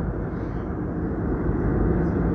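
Steady cabin roar aboard a nearly empty Jazeera Airways airliner flying from Kathmandu toward Kuwait, a continuous broadband engine and airflow hum, even and unbroken for the short stretch.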